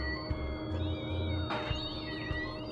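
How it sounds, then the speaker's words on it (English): Cats meow in the video game Voodoo Vince: Remastered, a few short, tonal meows rising and falling over a sustained game music and ambience bed, fairly close and clear. "I have no idea why I'm hearing cats."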